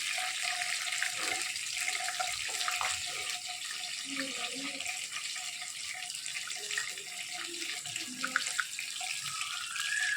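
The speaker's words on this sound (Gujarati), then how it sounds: "આની અંદર થોડું પાણી નાખી અને સરસ બધું મિક્સ કરી લઈએ" Water running and splashing into a pan of ginger garlic paste while cooking a vegetable gravy, a steady soft trickle with faint kitchen clatter.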